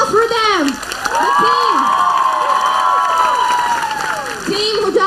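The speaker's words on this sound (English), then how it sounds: "Can you guys give a round of applause for them?" An audience cheers and shouts loudly for a Hojagiri dance team on a carnival stage, with high rising whoops and voices swelling over steady crowd noise throughout.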